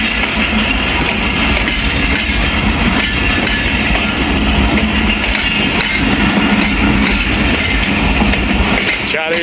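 An old business class coach of the Karachi Express rolls steadily on the rails, a continuous loud rumble with clickety-clack rhythm and faint metallic clinks throughout.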